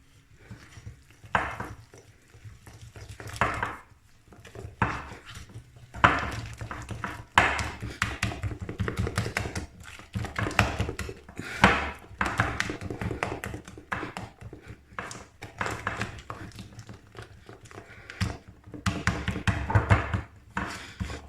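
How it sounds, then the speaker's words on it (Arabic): Spoon stirring flour into a thick one-egg mini cake batter in a bowl, a steady run of soft scraping strokes and light clinks against the bowl, close and alone with no voices. "نضيفو الطحين خضره وحده، ونحركو مزيان"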